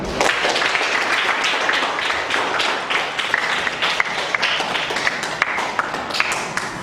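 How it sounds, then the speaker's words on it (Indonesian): Students in a classroom clap for the groups that have just presented, a lively burst of many hands with sharp individual claps standing out near the end. "Sekali lagi tepuk tangan untuk semua kelompok yang sudah presentasi kali ini."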